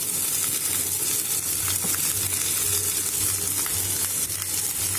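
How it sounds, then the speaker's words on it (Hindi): Cabbage, capsicum and tomato sizzle steadily in a hot pan, a continuous close frying hiss with occasional stirring scrapes and no voices. "और इन्हें हम भून लेंगे।"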